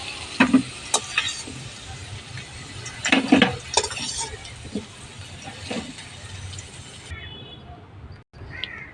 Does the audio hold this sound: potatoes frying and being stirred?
yes